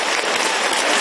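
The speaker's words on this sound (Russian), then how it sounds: "И тут настала очередь зрителей разбивать руки в кровь аплодисментами." An audience applauds after a wushu martial arts display, a short burst of dense, loud clapping with no voices.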